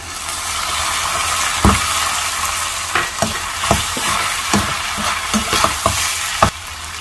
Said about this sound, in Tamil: ஆனியன் வதக்கிறப்போ நம்ம சால்ட்டு சேர்த்தோம் அப்படின்னா ஆனியன் சீக்கிரமாக நமக்கு வதங்கிடும்